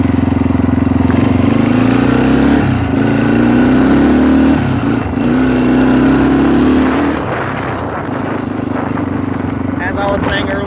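A 1997 Yamaha Timberwolf ATV engine runs steadily nearby with a rough, throbbing idle and brief rises in revs, settling lower near the end.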